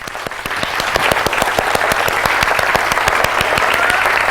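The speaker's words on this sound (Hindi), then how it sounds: "अभी भी कुछ लोगों को ऐसे ताली बजाने में शर्म आ रही है।" An audience claps together in a loud, steady, rhythmic beat, roughly four claps a second and close to the microphone. A crowd's murmur sits underneath and the clapping builds slightly after the first second.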